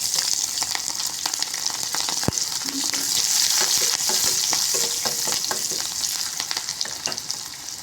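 Dry chillies, bay leaf, panch phoron and onion fry in hot oil with a close, busy crackling sizzle, broken by scattered pops and stirring scrapes and one sharp click.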